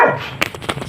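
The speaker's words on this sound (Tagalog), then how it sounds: "Galit na naman yung aso." An angry dog lets out a quick series of short, sharp barks up close, right after a brief louder opening sound.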